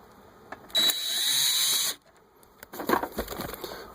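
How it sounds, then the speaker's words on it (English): A screw gun whines in one sustained burst of about a second while backing screws out of the radio trim in a 2005 Chrysler Town and Country, followed by clattering handling noises. "couldn't find a Phillips screwdriver, so I got to go with my screw gun."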